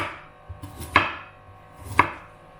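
A knife cuts young ginger into strips on a board with two crisp, distinct chops about a second apart, plus a faint lighter tap, close and quiet.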